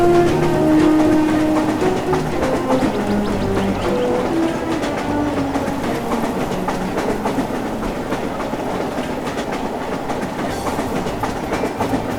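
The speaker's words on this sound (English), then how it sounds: "Slowly but surely, the train is moving." A train rolls steadily along the rails with a continuous rumble and faint rhythmic clacking, a tonal squeal drifting in early on.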